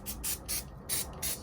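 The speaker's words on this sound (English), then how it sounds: "So I'm just going to spray it down." Aerosol or pump spray hissing onto a small test patch of a van during strip-down, in five short bursts of roughly a quarter second each, close and fairly loud, with brief gaps between them.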